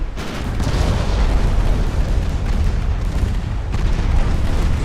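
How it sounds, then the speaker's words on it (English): A torpedo hit explodes in the naval warfare video game Ultimate Admiral: Dreadnoughts, a loud, deep, rumbling blast that rolls on for several seconds with heavy low-end swells and no voices. "that one actually was not a bad torpedo. This one's gonna hurt."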